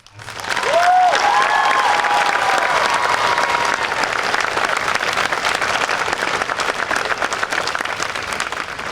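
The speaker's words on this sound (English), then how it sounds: "Please join me in applauding the class of 2025." Loud, sustained applause from a big graduation crowd cheering the class of 2025, dense clapping that swells quickly and stays full, with a brief whistle or cheer near the start.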